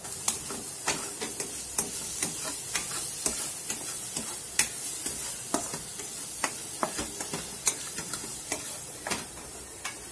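Vegetables, capsicum among them, sauté and sizzle in a pan on medium flame, with steady crackling frying broken by regular ticking clicks of stirring.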